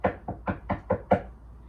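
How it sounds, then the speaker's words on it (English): Six quick knocks on a wooden door, fairly close and evenly spaced, the last one slightly harder, followed by a moment of quiet. "then knocked on Auntie Adele's door"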